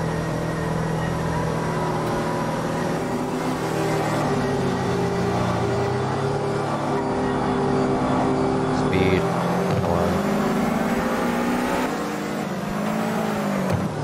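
Race car engine at high RPM in a racing video game, a sustained loud whining drone with shifting pitch and a brief dip near the middle, continuing steadily throughout alone.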